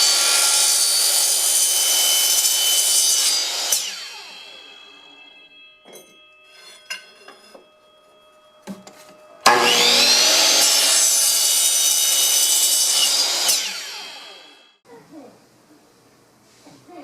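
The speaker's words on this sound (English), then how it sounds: "I'll just cut each one to 14, mark it at 14, and cut it on my chop saw here, my miter saw" A miter chop saw cutting wood to length: two loud whining cuts, each a few seconds long, spinning up and winding down, separated by quiet handling clatter, recorded close up.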